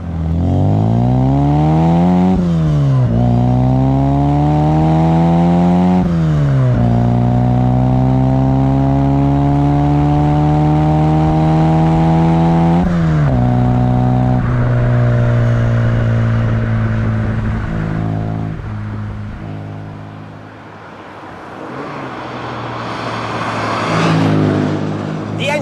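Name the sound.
1969 Mini Cooper S 1275 A-Series engine revving while driving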